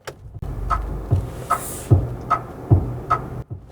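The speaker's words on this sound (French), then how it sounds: "Je m'arrête un moment pour te faire écouter le son des clignotants." Regular ticking of a 2026 Jeep Avenger MHEV 110 turn indicator, paired clicks repeating at a steady pace inside the vehicle, with a low engine hum underneath.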